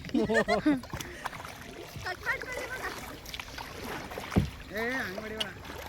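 Paddles slap and swish through the water from a rowboat carrying several people, the soft splashing running underneath lively nearby conversation.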